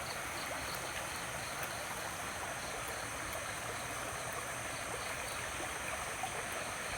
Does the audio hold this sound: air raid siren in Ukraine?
no